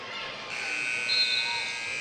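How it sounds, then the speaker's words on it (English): A sustained electronic buzzer sounds to end the first half of a women's college basketball game in an indoor gym, loud and steady for about two seconds over faint arena noise. "First half buzzer sounds."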